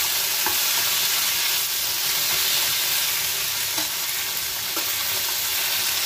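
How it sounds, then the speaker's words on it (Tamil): Drumstick leaves seasoned with turmeric and salt are stirred in a hot pan, giving a steady, close sizzling hiss with soft scraping throughout and no talk. "இதை நல்லா மிக்ஸ் பண்ணி வச்சுக்கலாம்"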